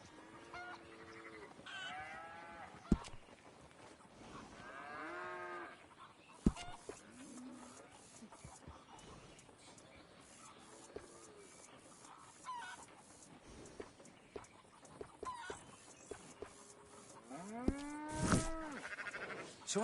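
Cattle moo repeatedly on a ranch in Red Dead Redemption 2, several drawn-out, fairly close calls spread across a quiet outdoor backdrop with occasional fowl-like honks and sharp clicks.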